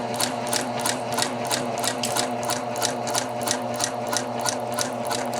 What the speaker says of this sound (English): I'm just going to continue stitching down the rest of this corner.